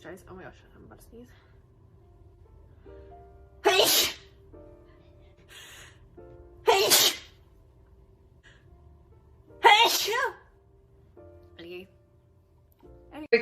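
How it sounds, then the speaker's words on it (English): Someone sneezes three times, each a sharp, loud burst separated by a few seconds, with quiet speech and breathing murmuring in between. "Oh my gosh, I'm about to sneeze."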